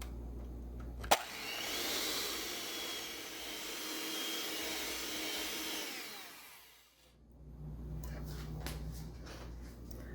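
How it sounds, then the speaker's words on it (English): An electric mixer beats cookie batter made with Simply Eggless for vegan apple walnut cookies, a steady whirring drone that starts with a click, runs for several seconds, winds down and gives way to quieter kitchen clatter. "I'm going to start mixing this for about 2 minutes until it becomes light and fluffy"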